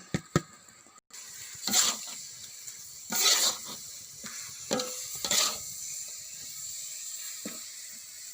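Palm sugar and grated coconut filling for baked sticky rice cooks in a pan, giving soft sizzling with several bursts of scraping and stirring spaced a second or so apart, close and fairly quiet with no talking.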